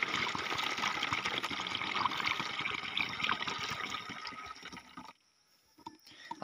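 Freshly gathered tuba, coconut sap, pours into a container in a steady, close liquid splash and trickle for about five seconds, then stops abruptly into near silence with a faint knock.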